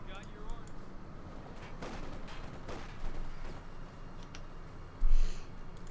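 Scattered gunfire and heavier blasts crackle through a busy battle in the World War II strategy game Company of Heroes 2, with one louder burst near the end over a constant rumble.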